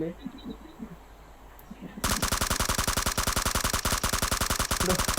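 A fast, steady stream of automatic gunfire in a video game bursts in after a quiet stretch and keeps hammering loud and close, the rapid shots evenly spaced to the end.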